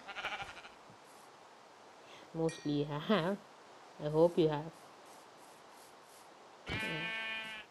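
Minecraft sheep bleat in short harmonic bursts, two clustered calls around the middle and another near the end, heard under someone speaking over faint game background.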